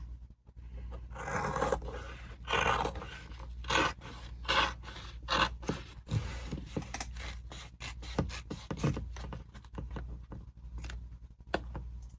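Scissors snip repeatedly through sewing fabric while a Marmoris handbag is trimmed, a quick irregular run of close, crisp cuts over a low steady hum, with no talking.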